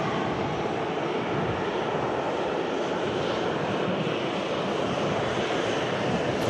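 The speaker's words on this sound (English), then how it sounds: "A Ryanair in from Katowice." A Ryanair airliner arriving from Katowice at Manchester Airport gives a loud, continuous broadband engine roar that holds steady and close from start to finish, with no talk over it.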